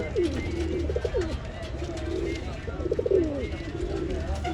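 Pigeons cooing at a bird market in Bangalore, repeated soft rolling coos close by, with background chatter and voices of people talking.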